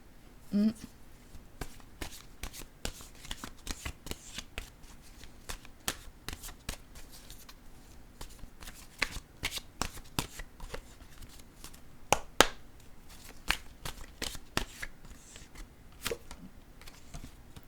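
Tarot cards shuffled at length close by, a long series of sharp, irregular clicks and flicks of card edges against one another, with a faint background hum and no speech.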